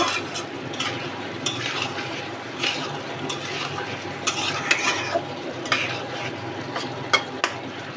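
Ridge gourd being stirred in a pan with cumin and coriander powder for a Bengali ridge gourd and shrimp curry: steady close scraping and sizzling with scattered utensil clinks, no voices.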